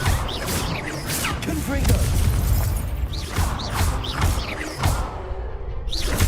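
The Confringo blasting spell goes off in Hogwarts Legacy, heard as booming bursts and whooshing magic effects over layered game sounds and music, with a voice speaking amid the action.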